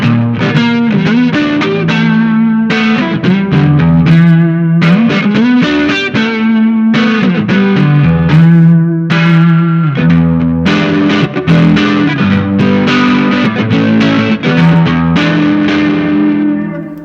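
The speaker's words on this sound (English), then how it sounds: "it's a nice reverb with nice modulation" An electric guitar plays through a Vox AV15 amp with chorus modulation and reverb, with loud, continuous strummed chords and picked phrases that shimmer and ring out, alone without talk.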